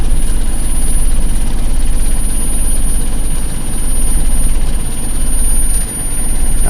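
A Toyota carburetor car engine runs steadily with a low, dense rumble while its air-fuel mixture is adjusted, the revs holding fairly even with slight dips near the end.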